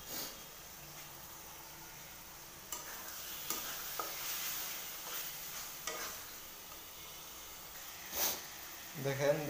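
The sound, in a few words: marinated prawns being stirred and fried in spice paste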